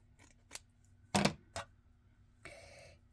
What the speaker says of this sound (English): I'm just gonna trim it down where I tried to rip it